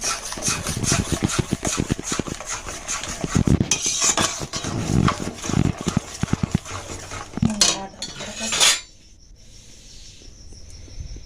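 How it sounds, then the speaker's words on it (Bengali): Masala for Kashmiri aloo dum is stirred in a pan with a metal spoon, giving rapid repeated scraping and clinking strokes under a steady hiss, then stopping abruptly near the end, leaving quiet background; no voices. "এবার আস্তে আস্তে এইটা নাড়তে হবে নাড়তে নাড়তেই দেখবেন কালারটা চেঞ্জ হয়ে যাবে"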